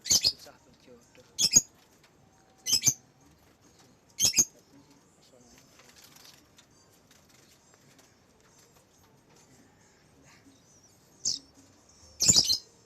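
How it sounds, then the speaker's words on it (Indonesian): A house sparrow kept in an otherwise empty cage gives short, sharp chirps in separated bursts, about six over several seconds with quiet gaps between, close and fairly clear. "ini burung gereja"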